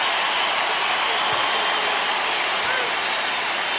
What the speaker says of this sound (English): Nash will hear the roar from the crowd